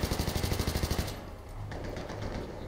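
A tank fires in the video game Battlefield 3, a rapid rhythmic burst of loud shots lasting about a second, followed by lower rumbling battle noise.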